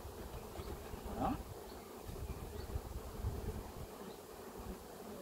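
Honeybee swarm being settled into a hive between foundation frames, giving a steady low buzzing hum with faint passing bee whines over a noisy, breezy outdoor background.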